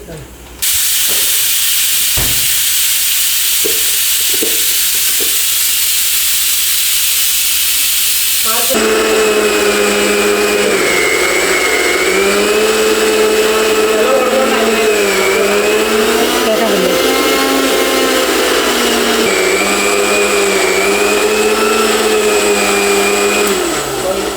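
A wet grinder grinding rice and coconut whirs steadily for a long stretch, a loud churning hum with shifting tones, starting after a few seconds of quieter clatter and hiss.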